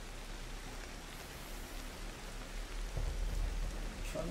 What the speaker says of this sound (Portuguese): Chove bastante nesse lugar, né, mano?